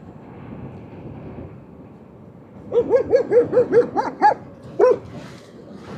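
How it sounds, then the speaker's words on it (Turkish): A dog barks in a quick run of about seven sharp barks, then one more after a pause, mid-distance over a low rumbling background. "Finalde köpekler var."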